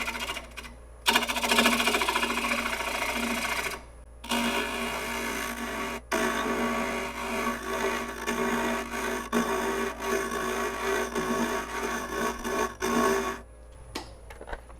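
A lathe hollowing tool cuts inside a box elder burl in light passes, giving a steady rasping, whirring buzz that repeatedly stops briefly and resumes over a constant low hum.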